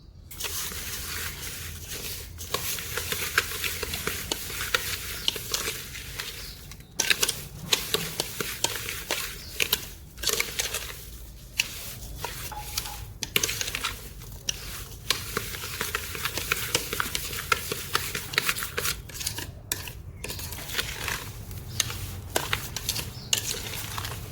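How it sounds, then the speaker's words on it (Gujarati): A spoon mixes mango pieces with sugar in a pot for a mango pickle, giving repeated scraping, stirring and clinking with irregular pauses at close range, no voices. "પાંચસો ગ્રામ જેટલી ખાંડ નાખીશું અને સારી રીતે ચમચાના મદદથી મિક્સ કરી લેશું"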